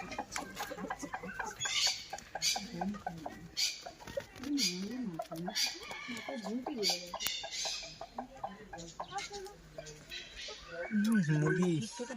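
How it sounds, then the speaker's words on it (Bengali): Chickens at a bird park cluck in short, repeated bursts close by, mixed with other bird calls, as people talk over them. "মুরগি এগুলো।"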